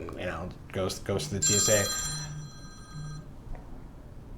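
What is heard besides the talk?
phone ringing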